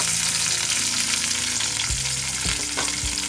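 Onion, capsicum and carrot frying in a little oil in a pan, a dense, loud, steady sizzle with a few spatula knocks and scrapes near the end, no talking.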